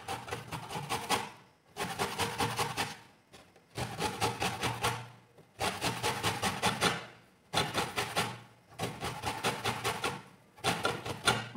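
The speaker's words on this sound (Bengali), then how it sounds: "এরকম ঘষে ঘষে ঘুরিয়ে ঘুরিয়ে উপরের এই আবরণটা নিতে হবে।" Orange peel being grated by hand for orange cake zest, a close, rough rasping in six or seven long strokes separated by short pauses, with no voices.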